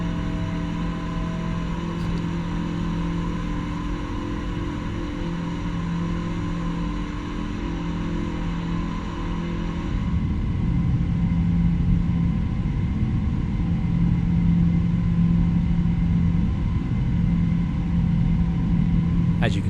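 Boeing 777-200ER jet engines, modeled by PMDG in Microsoft Flight Simulator, roaring steadily on climb-out with flaps retracting; a constant broadband rumble with a steady tonal whine that grows slightly louder midway, with talk over it.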